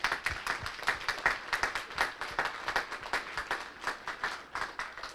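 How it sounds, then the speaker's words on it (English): An audience at an elementary school assembly claps for students, giving a close, pulsing round of hand claps that continues steadily throughout. "Let's give them another round of applause."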